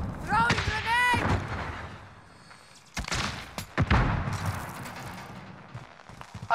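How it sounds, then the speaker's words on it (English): A grenade goes off in the Call of Duty video game with a sharp, loud blast and a rumbling tail, followed by further booms and gunfire amid game voices and radio chatter. "Throwing grenade!"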